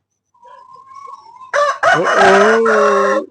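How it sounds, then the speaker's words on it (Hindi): A rooster crowing loudly and close, one long drawn-out call that follows softer bird chirps and clucks in a farmyard with goats and hens. "ये बांग देता है"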